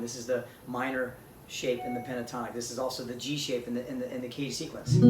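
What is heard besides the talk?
No everyday noise stands out behind the speech.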